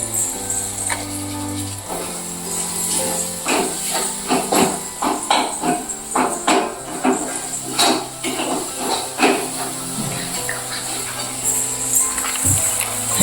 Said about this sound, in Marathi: टोमॅटो आणि अद्रक लसणाची पेस्ट सगळी आता फ्राय करून घेते